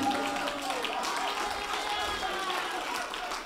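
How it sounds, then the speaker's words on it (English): A church congregation claps together in a steady, dense wash of applause, with voices mixed in beneath the clapping. "let's just stand and give a clap offering to the Lord"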